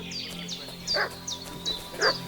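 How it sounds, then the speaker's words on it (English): A dog barks and yips repeatedly in Kingdom Come Deliverance 2, a quick series of sharp, fairly close calls over a steady low game ambience with no talking. "What's that dog making such a fuss about?"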